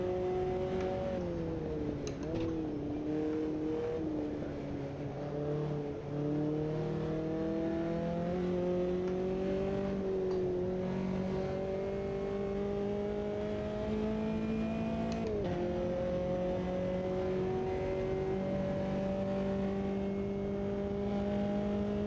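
Formula-Inter race car engines at Spielberg in the racing sim Automobilista 2 on Racecraft Online: a steady, loud, nearby whining drone whose pitch climbs and drops with shifts and braking, running continuously throughout without talk.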